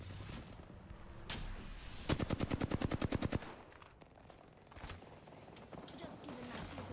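Weapon fire in the Apex Legends shooter: a fast, loud automatic burst of about fourteen evenly spaced shots, then a few isolated shots, while a player talks over the game sounds.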